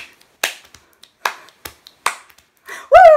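Body percussion in a loose rhythm of sharp finger snaps and hand claps, close and crisp with short silences between hits, ending in a voiced shushing sound.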